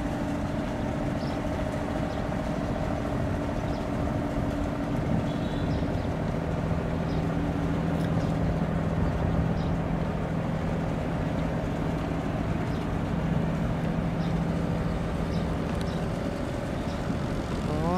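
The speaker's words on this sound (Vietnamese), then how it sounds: "Này sử dụng một động cơ nha các bạn" A Ca Mau barge loaded with stone runs along a canal, its single engine giving a steady, low droning hum that holds at an even level throughout.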